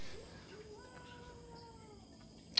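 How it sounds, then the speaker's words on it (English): A black cat meows in a drawn-out, complaining tone at close range, one wavering cry fading off, followed by a short sharp noise at the end. "This cat is always complaining,"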